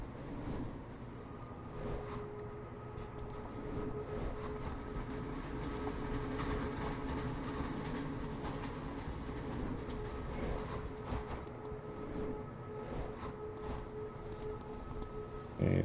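A tram in the video game Paragon rolls along with a steady, continuous rumble and rattling hum, holding an even loudness throughout.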